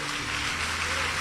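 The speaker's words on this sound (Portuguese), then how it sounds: "Aplauda ao Senhor." A church congregation applauding during a worship service, a continuous even wash of clapping from a large room, with low instrumental tones sustained underneath.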